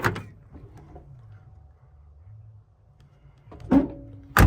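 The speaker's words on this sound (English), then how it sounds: "Listen to that door." A car door on a big-block Chevy opens with a short thud near the end and shuts with another solid clunk moments later, over the low idling rumble of the big-block engine.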